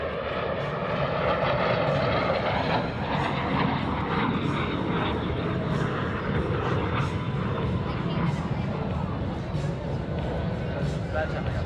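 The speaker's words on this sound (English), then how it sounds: "another nice photo pass by the L-39 from your left to right." An Aero L-39 Albatross jet roars steadily as it flies past left to right at an airshow, its loud engine noise filling the air with a constant broadband rumble and whine.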